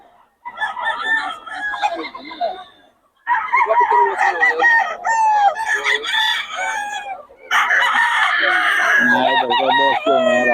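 A young rooster (stag) crows repeatedly at a gamefowl market in Bocaue. Several loud, close cock-a-doodle-doo calls come in quick succession, with other fowl clucking nearby.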